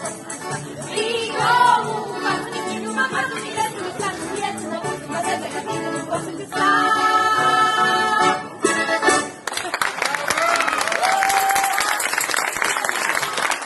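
An audience at a Sicilian folklore show applauds, with clapping and crowd noise mixed in with music and voices, the applause growing louder and fuller toward the end.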